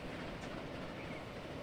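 Trains roll along rails in the Transport Fever 2 video game, giving a steady, dense rumble with faint clickety-clack and no pauses, heard alone without talk.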